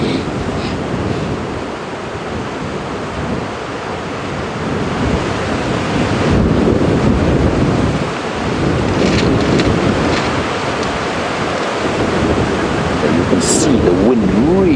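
Wind rushes steadily over a safari drive at Djuma Game Reserve, a broad, loud roar that rises and falls in gusts and buffets the microphone throughout.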